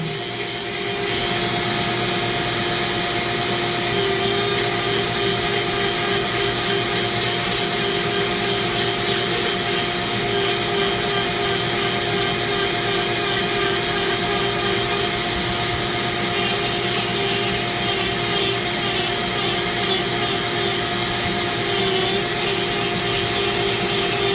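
A shop vac runs steadily, pulling up zebra wood dust while a bangle is carved. Its loud, constant whooshing roar runs throughout, with scratchy rubbing and grinding of the wood mixed in and no speech.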